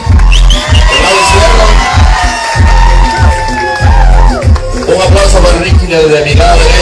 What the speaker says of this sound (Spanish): Así, rapidito, regálame un aplauso